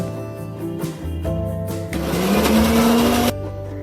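A mixer grinder whirs steadily, blending ginger, tomato, cashews and water into a paste for fish kalia; the close, loud motor hum rises in pitch and intensity midway, then drops off near the end.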